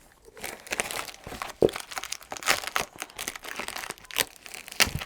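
Plastic packaging sealed with tape is pulled open around a potted blue juniper, a close crinkling and tearing sequence with irregular rustles and several sharper rips, with no talking.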